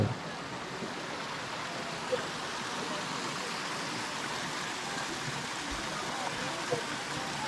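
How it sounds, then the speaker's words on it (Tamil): Water from Kallathigiri waterfall rushes steadily through a forest temple site in Chikmagalur, a constant broadband roar close by with a few faint knocks and no clear talk over it. "தண்ணி இப்படிதான் போகுது."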